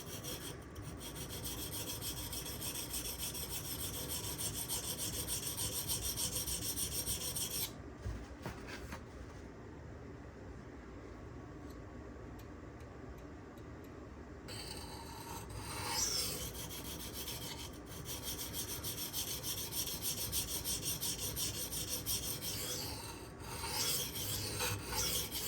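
Steady raspy scraping as a Benchmade Anthem knife blade is sharpened along the belly and tip, continuous and close, with brief pauses and shifts in the stroke partway through.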